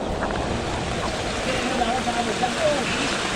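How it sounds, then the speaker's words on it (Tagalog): Steady rain falls in wet, misty hill country during a hike, a dense broadband hiss of drops on foliage and ground that holds level for the whole stretch, with faint wind mixed in. "Hanggang ngayon maulan pa rin."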